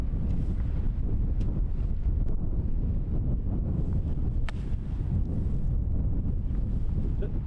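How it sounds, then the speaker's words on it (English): Strong wind buffets the microphone on a golf course on a cold, windy day, a loud, continuous low rumble with a few faint clicks and no clear speech. "wind's off the right"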